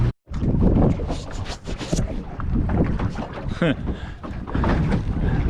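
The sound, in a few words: easterly wind blowing outdoors on the water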